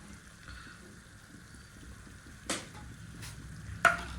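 Chili, cumin and turmeric powders hit hot oil in a pan for a chicken and potato curry, giving a low steady sizzle with a few sharp stirring scrapes and clinks.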